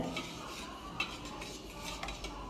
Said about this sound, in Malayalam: ഒരു സ്പൂൺ വെച്ച് ചെറുതായി ഒന്ന് ഇളക്കി കൊടുക്കാം